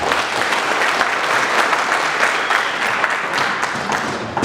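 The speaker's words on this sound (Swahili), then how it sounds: "Naomba tumpigie makofi sana." Applause from a crowd at a Tanzanian political gathering with a minister, lively overlapping claps that swell and stay loud for several seconds, with no speech over them.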